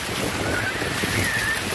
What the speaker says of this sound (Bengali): এখন সমুদ্রে ঢেউ কাছে আসতেছে